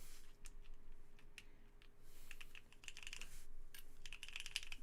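Steady mechanical typing on a Keycult 2/65 keyboard fitted with B-Sun switches, a dense run of close, crisp key clacks that continues with no talking.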